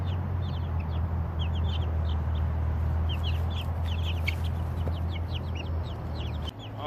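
Chickens cluck and chirp repeatedly, close and fairly loud, over a constant low hum, as they move from indoors to an outdoor setting.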